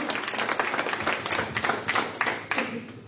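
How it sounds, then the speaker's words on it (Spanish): A church congregation applauds during a sermon, a lively burst of clapping with distinct individual claps standing out over the crowd, moderately loud and steady. "Denle un aplauso grande al Señor."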